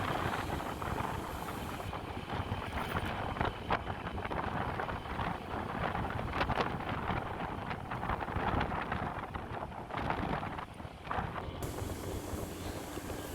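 Steady rushing wind buffets the microphone while riding a 2025 Honda Vario 125 scooter at a relaxed pace toward Manyar, Gresik. The roar is constant and broadband, with faint engine and road rumble underneath and no voices.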